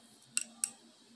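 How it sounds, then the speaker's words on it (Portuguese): Two quick, crisp snips of scissors cutting crochet yarn, close and clean, spaced about a quarter second apart against a quiet room. "Faço mais uma corrente e vou novamente cortar o meu fio."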